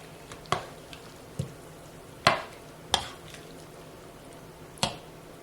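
Raw shrimp being stirred with a blended lime, pepper and salt mixture in a bowl for ceviche: a handful of sharp, wet clicks and squelches at uneven intervals over quiet background.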